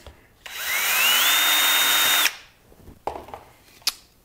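A power drill bores a 1/8 inch hole in wood for a 1 1/4 inch cup hook, whining for about two seconds with its pitch rising as it spins up, then stopping, followed by a few light clicks and handling noises.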